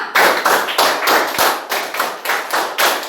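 A classroom of students clapping together in a counted rhythm pattern, loud and close, with regular bursts of hand claps repeating in groups at a steady tempo.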